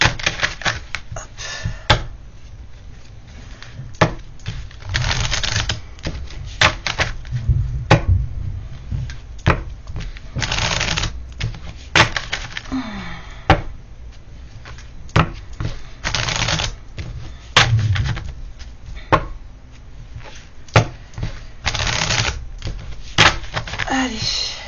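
A deck of cards is shuffled by hand at close range, giving repeated crisp riffling and clacking bursts separated by short pauses.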